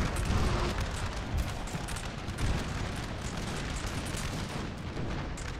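Musket volleys crackle and boom across a Napoleonic battlefield in the Napoleon: Total War video game, a steady mass of overlapping shots and rumbling reports at moderate distance with no voices.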